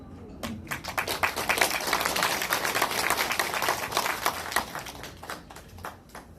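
Audience applause at a Rotary club president's inauguration ceremony in Korea, a steady, fairly close burst of clapping lasting several seconds before fading, with no talking over it.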